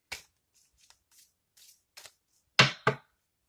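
Tarot cards are shuffled and handled close by in short, crisp bursts: a few soft riffles, then two louder snaps near the end, with no talking.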